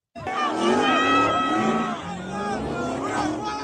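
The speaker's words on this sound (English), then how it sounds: "car after car spun out doing high-risk maneuvers with dozens of people standing by" Cars spin out at a street takeover in a parking lot with fireworks and a ring of fire, engines roaring and tires squealing loudly and continuously amid a crowd's babble and shouting.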